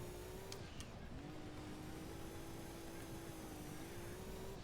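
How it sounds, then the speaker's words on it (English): A race car engine in Gran Turismo 2 hums faintly and steadily through nearly five seconds, with small pitch dips and rises as the car drives on, alone without talk. "I'd really like to know how much horsepower this car has."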